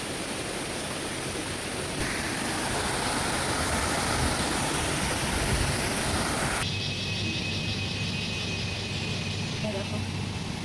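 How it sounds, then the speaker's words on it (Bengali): A forest waterfall and stream pour in a steady, close broadband rush that shifts abruptly in character partway through. "এখান দিয়ে ঝর্ণাটা আসছে, ঝর্ণার জলটা"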